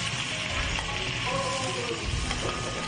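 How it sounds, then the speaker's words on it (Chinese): Shiitake mushrooms and pig heart slices stir-fry in a wok of hot rapeseed oil with ginger, garlic and chillies, giving a steady, close, loud sizzle with scraping stirs throughout and no talk. "小香菇、猪心片下锅同炒"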